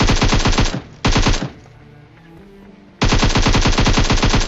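Uzi fire in the battle royale game PUBG comes in loud rapid full-auto bursts, two short volleys split by a brief lull, then a sustained stream of shots, with no voices.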